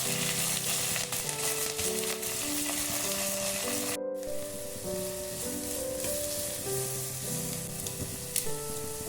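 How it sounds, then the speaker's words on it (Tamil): Onions sautéing in a pan with curry leaves, green chili and urad dal for semiya upma give a constant, close sizzling hiss under soft background music. "வெங்காயத்தை நல்லா வதக்கி கொள்ளவும்."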